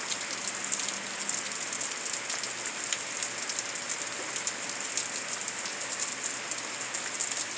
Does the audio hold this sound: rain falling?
yes